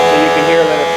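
A 1998 Okuma MX 45VBE machining center spindle with a suspected bearing fault spins at 5,000 RPM, making a steady, loud tonal whine and buzz that runs for about a second.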